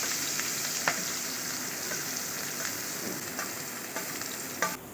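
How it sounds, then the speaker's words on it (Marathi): Finely chopped onion and cumin fry in two spoons of oil in a pan on a gas stove, giving an even, moderate sizzle with a few light scraping stirs, close by and without talk. "त्याच्यात आता तेल 2 चमचे, थोडं जिरं, त्यात थोडा बारीक चिरलेला कांदा"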